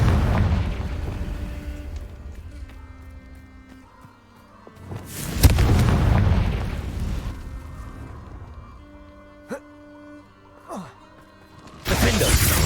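Fiery Confringo spell blasts in the wizarding action game Hogwarts Legacy, with several booming explosions and sharp bursts over a rumbling battle bed, the loudest near the middle and a fresh blast at the end.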